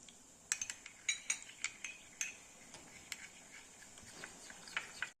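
A spoon clinks sharply against a bowl while mixing vitamin E and milk for homemade soap, with a dozen or so quick, close taps over faint background hiss.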